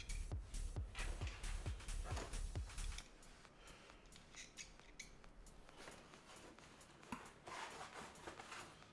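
Squeaky controller or keyboard buttons are pressed in quick, sharp clicks and chirps, loud in a rapid run at first, then sparser, quieter presses continue against faint background hiss.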